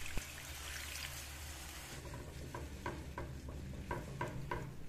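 A flour-thickened sauce is stirred in a pan while a little water is poured in, giving a soft continuous sizzle with a trickle, and the spoon scrapes in a steady rhythm during the second half.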